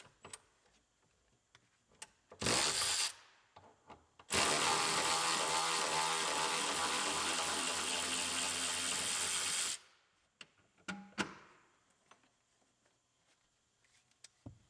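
Wrench or power tool working a seatbelt anchor bolt inside a 2019 GMC Sierra Denali, a short burst followed by a longer steady whirring run of several seconds, with scattered clicks and clunks around it in a quiet cab.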